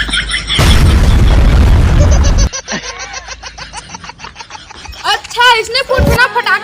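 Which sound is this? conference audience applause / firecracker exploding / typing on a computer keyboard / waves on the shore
firecracker exploding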